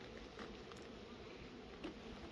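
A soft, continuous buzz of many bees around a hive, low and steady with no talking.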